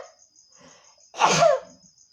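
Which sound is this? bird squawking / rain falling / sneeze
sneeze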